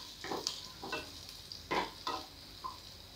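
Whole coriander and fennel seeds frying in a pan, giving a quiet sizzle with a few soft stirring scrapes and small crackles spread over a few seconds.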